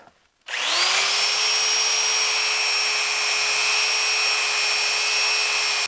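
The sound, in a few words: sanding an epoxy-and-peg wooden bowl with 60 grit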